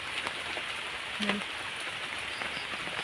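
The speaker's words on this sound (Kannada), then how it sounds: "ಅಡಿಕೆ ಮರದಿಂದ ನೀರು ನೋಡಿ ಯಾವ ಥರ ಬೀಳ್ತಾ ಇದೆ" Rainwater drips and splashes from an areca nut palm during a monsoon downpour, a steady fine patter of drops with a few louder nearby splats.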